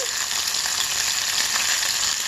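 Green chilies and broad beans sizzling in hot oil in a pan for a Telugu-style chikkudukaya curry, a loud, steady, continuous frying hiss with no talk.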